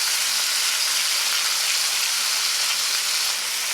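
Cajun chicken taster pieces fry in a hot pan with a steady, close, full sizzle that holds evenly for several seconds, with no talking.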